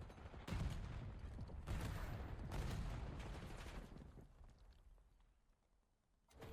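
Wall-bang gunfire in a competitive Call of Duty scrim on a hardpoint map, with several loud bursts of rapid shots over the first three seconds, then a quieter tail and another shot at the end.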